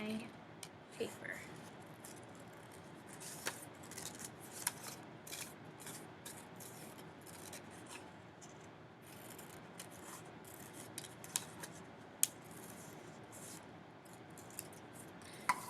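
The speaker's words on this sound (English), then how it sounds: "I'm holding my scissors and I'm turning my paper." Scissors cut paper for a kindergarten dinosaur craft as the sheet is turned, a faint, steady run of soft snips and rustles with scattered sharper clicks, close but quiet.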